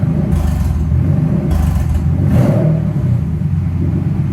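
A Mercedes SL600 engine, running without exhaust after repair, revs loudly and close, rising and falling in a deep, continuous rumble with mechanical whirring underneath from the newly installed transmission turning.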